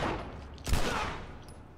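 A gunfire exchange in the video game The Last of Us Remastered: one sharp, loud shot or short burst stands out midway over a quieter rumbling background, then fades.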